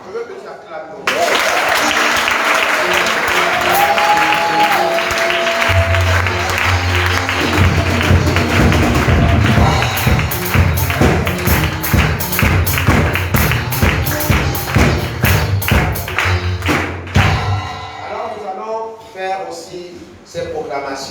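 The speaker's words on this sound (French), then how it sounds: "Je veux que tu acclames ton Dieu." A congregation at a prayer service applauds and cheers to acclaim God, a loud sustained crowd swell that builds into rhythmic clapping and fades out near the end.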